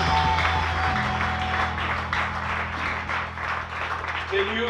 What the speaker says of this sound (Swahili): Pigia tena Bwana Yesu La makofi.